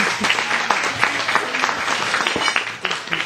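A small group clapping, steady dense applause from nearby lasting a few seconds, with a voice briefly talking beneath it.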